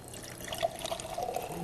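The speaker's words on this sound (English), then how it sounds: "Now let's pour that water into a mason jar with a wire screen lid" Water poured into a mason jar fitted with a wire screen lid in place of its cap, a soft, steady trickle and splash at low level with no voices.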